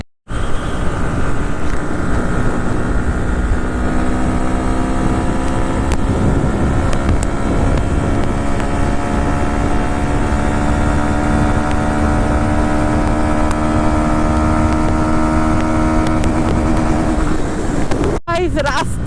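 Honda NX 160 motorcycle riding on the NH-34/12 highway between Kolkata and Siliguri, heard from onboard as a loud, steady engine drone with shifting tone, wrapped in heavy wind rush.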